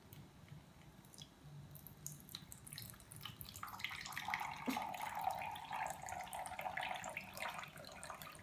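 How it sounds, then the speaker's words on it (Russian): Homemade berry compote is poured from a Tupperware jug into a glass, the berries held back by the jug's strainer lid, producing a steady liquid trickle and splash that grows fuller and louder midway through. "Ягодки все остаются в кувшине, а наливается только один компотик."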